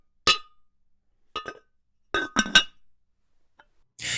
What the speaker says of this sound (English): the placing of the pot is actually someone opening and closing a cookie jar.